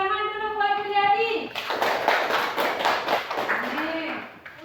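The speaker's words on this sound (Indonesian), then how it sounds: "Tepuk tangan dulu buat Juliadi." A classroom of students claps for a classmate, a burst of close, brisk clapping that starts right after a short stretch of speech, with children's voices mixing in as it tapers off.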